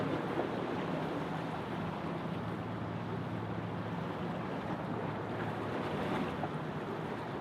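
A passenger plane touching down on a runway at Sydney Airport makes a steady, broad roar of engine and rushing air that holds evenly throughout, distant and fairly soft.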